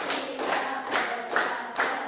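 Students in a classroom clap in counted bursts, about five evenly spaced rounds of quick claps in a steady rhythm, moderately loud and close, with no talking.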